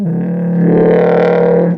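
A single held trombone note played with a plunger mute, buzzy and close, with the tone gently opening up in the middle before stopping.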